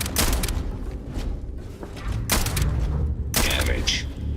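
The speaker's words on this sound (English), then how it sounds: "I am opening fire." Spaceship weapons opening fire in a video game: heavy booming blasts and thuds in bursts, with loud broadband bangs near the start, middle and end over a dense rumbling game soundtrack.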